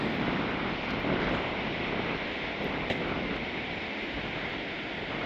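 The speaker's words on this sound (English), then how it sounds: "It's pretty windy up here" Strong wind buffets the microphone on a coastal clifftop above Whitesands beach on the St Davids Peninsula, a continuous loud roar with gusty swells and possible distant surf beneath.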